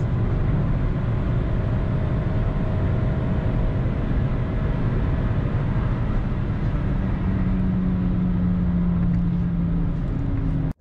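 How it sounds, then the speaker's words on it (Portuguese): A Kia Cerato 1.6 16V 126 cv with a six-speed manual gearbox accelerates hard to overtake a Vectra, its engine droning loud and steady from inside the cabin, with a rising tone near the end before an abrupt cut. "lá em cima o Cerato conseguiu ultrapassar o Vectra"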